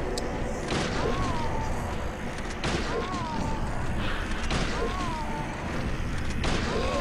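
Gunfire in the Silent Hill 3 video game, several sharp shots spaced a couple of seconds apart over a dense droning game soundscape with whining tones.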